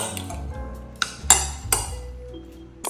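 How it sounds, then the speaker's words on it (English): Salad ingredients are mixed in a bowl, giving quiet scraping with three sharp clinks of utensil against the bowl spaced about half a second apart. "And then just mix everything together."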